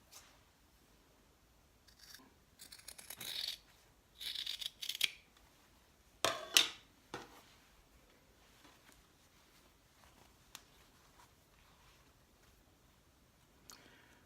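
Scissors trim fabric facing seam allowances in a few short bursts of close, quiet snipping and crisp blade rustles, separated by near-silent pauses and a couple of faint ticks, with no talking.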